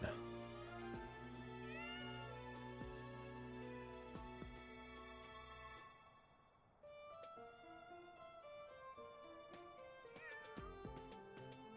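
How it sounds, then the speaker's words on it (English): A cat meows repeatedly within Fire Emblem: Three Houses gameplay, short high calls scattered over background game music, with a player talking over it. "Oh my god, there's a cat."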